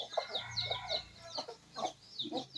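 Several chickens cluck and chatter nearby in short overlapping bursts, a busy continuous flock sound.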